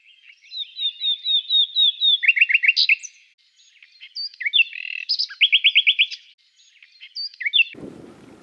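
Wild birds call and sing across coastal tidal marshes at Keyhaven in Hampshire on a sunny winter day, with bursts of clear repeated chirps and trills in several phrases, close and fairly loud, ending in a brief low rustle.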